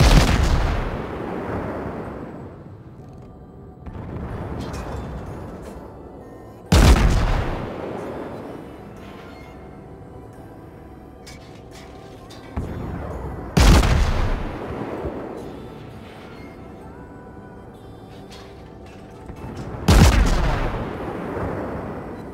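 Warship guns firing HE shells in the World of Warships game, four heavy booming salvos spaced roughly seven seconds apart, each with a long rumbling decay, loud and close.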